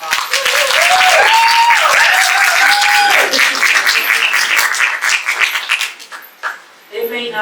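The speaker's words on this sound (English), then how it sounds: "Let's give her a round of applause." Loud, dense applause from an audience at a talk, a continuous wash of clapping that thins and fades toward the end, with a brief voice near the close.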